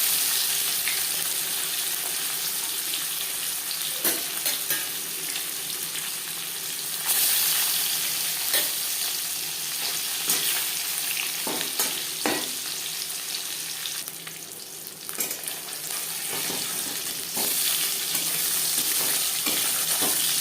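Pieces of silver carp, rubbed with salt and turmeric, frying in hot refined oil, with a loud, steady sizzle and crackle throughout and scattered sharper pops, no talking.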